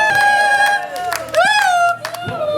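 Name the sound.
congregation cheering and clapping to acclaim Jesus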